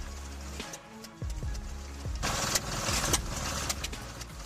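A vintage wood splitter driven by a rare sandwich engine starts and runs near at hand, with a low throbbing putter and clanking mechanical noise that rises and fills the scene. There is no talk.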